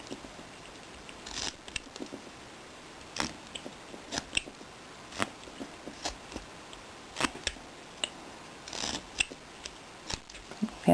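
Wood carving tool making a V cut on a figure: faint, irregular small snips and scrapes, quiet and close, spaced through the stretch with no talking.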